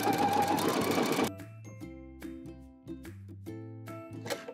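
A sewing machine runs stitch bursts along the seam of a Carhartt-style knit beanie, its steady motor hum stopping and restarting in short runs up close, with no talking.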